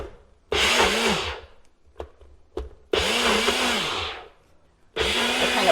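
Blender purees protein-rich keto breakfast ingredients in three loud motor bursts of roughly one and a half seconds each, the pitch sagging and recovering under load, separated by short pauses with a few faint clicks.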